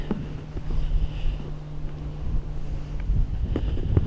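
Strong wind buffets the microphone on an exposed Iron Age hill fort on a cold day, a continuous low rumbling roar with gusty swells and no talk.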